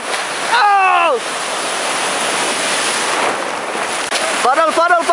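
Surf rushes steadily around a surfer paddling out in the Siargao ocean, a loud continuous wash of breaking waves close by, with brief voices calling out at the start and end.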